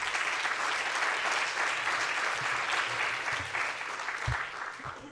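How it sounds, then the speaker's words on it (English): Sustained audience applause for a literary festival host at an opening event in New York, a dense steady wash of clapping throughout that tapers slightly near the end. "we need to really give a strong hand of applause to Razi Ahmed"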